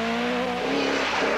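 Toyota Celica rally car on a 1980 Manx Rally stage, engine howling close by at high revs with a pitch shift as it powers past.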